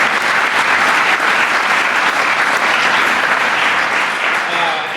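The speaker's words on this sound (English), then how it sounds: "If we could give her a huge round of applause." Loud, close applause fills a neighborhood safety meeting in Kenwood as the audience honors a guest, a dense, unbroken patter of many hands clapping that fades slightly at the very end.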